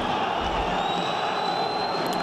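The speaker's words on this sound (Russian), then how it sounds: "Вы слышите, да, Махмуд, это болельщики Казахстана" Kazakhstan fans cheering at a boxing match between Makhmud Sabyrkhan and Oybek Juraev, heard as a constant arena roar of crowd noise with a thin whistle running above it.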